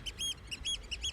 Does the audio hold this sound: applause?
no